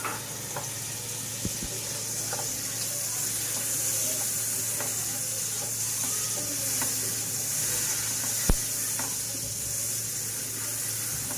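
Butter melting in a pan while laddu sweets are made at home, a steady soft sizzle with occasional clinks and scrapes, no speech.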